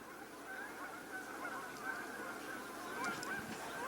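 Geese honk faintly in the distance, their calls drifting steadily over the open air of a youth baseball game between the Yankees and Astros, with a few slightly louder honks near the end.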